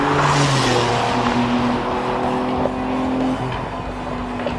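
A street car engine revving hard at high pitch, holding a steady loud drone that wavers as it bounces off the rev limiter, close and continuous with no talk.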